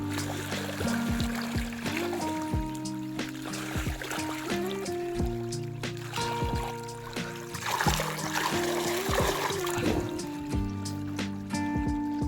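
Water trickles and splashes from a motor-driven pump pipe into a farm field, a thin, steady flow over the low hum of the pump, with no one speaking.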